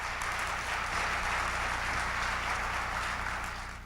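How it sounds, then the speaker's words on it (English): Conference audience applauding after a keynote, a dense, even patter of many hands sustained throughout and fading slightly at the end, with no voices over it. "Let's give everyone a round of applause."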